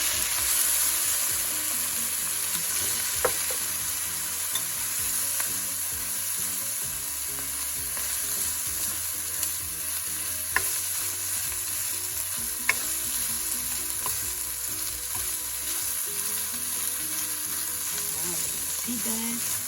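Chicken sisig sizzles steadily in a hot pan, with a constant bright hiss of frying oil and occasional scrapes and clicks of a utensil stirring, close and continuous with no talking.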